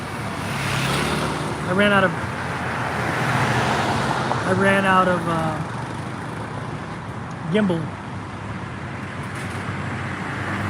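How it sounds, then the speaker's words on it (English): Steady road traffic roar beside a highway in Chiang Mai, Thailand, a constant wash of passing vehicles heard close, with someone speaking briefly over it. "So yeah, it's all traffic noise."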